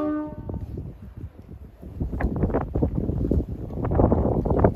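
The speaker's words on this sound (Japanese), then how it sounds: "さあ、警笛が鳴りました。" A Jōmō Line 800 series train, a former Hibiya Line car, sounds a short, tonal horn blast late at night, followed by loud rumbling train and wind noise close by.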